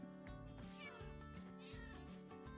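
A cat in a Minecraft game meows clearly and repeatedly over a steady layer of game music, the calls close and fairly loud.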